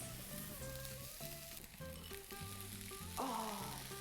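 Egg fried rice sizzling steadily in a hot stir-fry pan over high heat, a constant close frying hiss with clinks and scrapes of stirring, and a louder burst of sizzle near the end.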